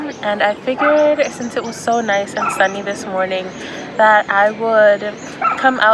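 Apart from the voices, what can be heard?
dogs barking in a Paris park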